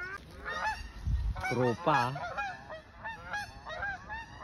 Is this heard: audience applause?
no